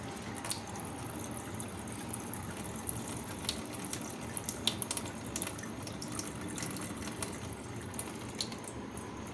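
Water pours slowly and steadily through a strainer while idli dosa batter ingredients soak, a continuous close trickling and splashing with a few small drips, no talk over it.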